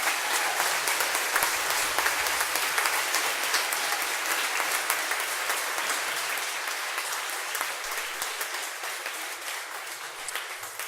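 Theatre festival audience applauding the backstage volunteers at an opening ceremony, a sustained wash of many hands clapping, steady and fairly loud, slowly tapering near the end.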